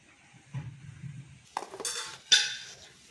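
Metal spoon scraping around the edges of a bread pudding cake in a dish: soft low rubbing, then a few sharp clinks and scrapes against the dish, close and quiet, with no talking.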